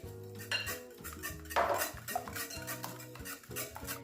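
Dough ingredients for light Senegalese-style beignets are stirred in a bowl, producing soft scraping and knocking of the utensil under a steady backdrop of tonal music, with one brief louder scrape midway.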